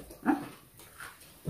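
A dog gives a few short, faint yips and whimpers in a quiet outdoor setting, with brief separated calls rather than a sustained howl.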